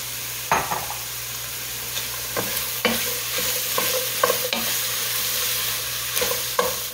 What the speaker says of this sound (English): I'm going to put all of our veggies right in there